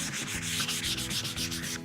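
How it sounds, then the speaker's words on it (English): Steady rhythmic strokes of sandpaper gently rubbing along the grain of wood, back and forth about a dozen times, close and even, with no talking. "we want to finish up by gently sanding over the surface in the direction of the grain"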